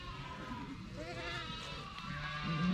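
Sakız sheep bleat in a barn on a livestock farm. Several overlapping wavering bleats sound at close to mid range over a steady noisy barn background, and a louder low call comes near the end.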